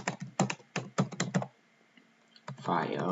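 Rapid keystrokes on a computer keyboard in quick bursts of clicks, a pause, then a short further burst before a voice begins speaking.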